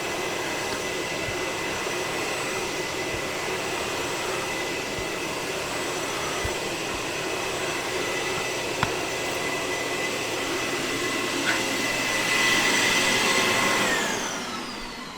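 A Bissell Garage Pro wall-mounted wet/dry vacuum runs steadily for the whole stretch, a loud constant whine with a brief swell in pitch and volume near the end.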